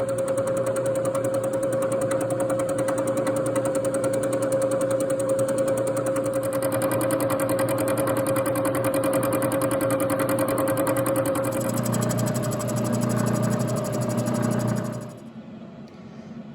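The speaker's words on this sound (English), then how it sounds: "Let's fly cut the last 10 thousandths off." Steady whirring machine drone of a Logan 922 lathe fly cutting metal while fitting a 5C collet chuck, continuous and fairly loud with a steady hum, shifting slightly near the end before dropping off abruptly.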